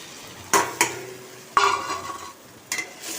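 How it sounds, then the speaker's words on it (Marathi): Dil pasand vegetable pieces sautéed in a pan of spiced masala, with a few sharp spatula scrapes and clatters over a soft frying sizzle, close and clear with no talking. "आणि परत छान परतून घेऊया"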